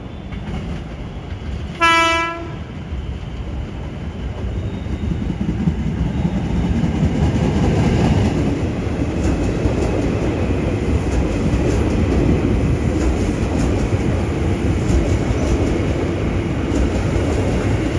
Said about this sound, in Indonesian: Dan ini adalah situasi di peron jalur 3 dan 4, Stasiun Gambir di lantai teratas.